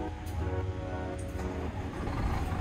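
Inside the cab of a Scania G410 truck, the freshly started engine idles as a low, steady, muffled hum that stays fairly quiet and even throughout.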